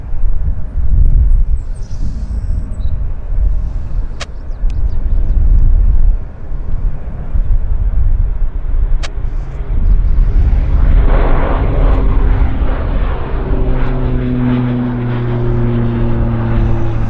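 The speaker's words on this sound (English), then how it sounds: "Our Beech 1900 is rolling thunder." A Beech 1900 turboprop takes off at Vancouver Airport (YVR): a loud, continuous propeller and engine roar that holds steady, then rises into droning, climbing tones as the aircraft gains speed.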